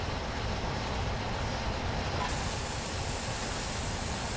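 The Flying Scotsman steam locomotive climbing toward Shap summit in Train Sim 2020 gives a steady, faint hiss and rumble of steam and rolling wheels, continuous and even throughout, with no talk.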